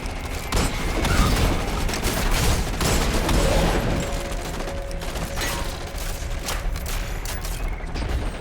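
Dense, continuous gunfire from the Destiny 2 video game, with rapid overlapping shots and mechanical clatter running steadily at close range and moderate loudness.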